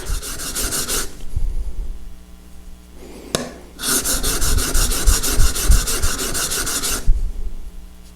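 A hand plane blade is rubbed on a sharpening stone to raise a burr, giving loud, steady rasping strokes in two long bursts separated by a quieter pause, with no talking.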